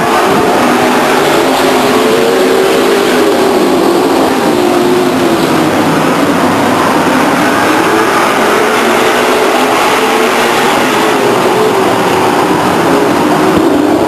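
A pack of race cars roars on the restart at Stockton 99 Speedway in 1999, a loud, continuous, saturated wall of engine noise with rising and shifting pitch as they accelerate past, no voices audible.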